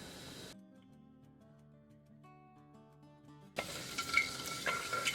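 Cumin seeds fry in hot olive oil with a brisk, crackling sizzle. The sizzle fades out for a few seconds while soft tonal notes play, then returns loud and close.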